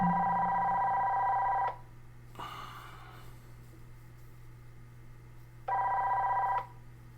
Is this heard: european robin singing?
no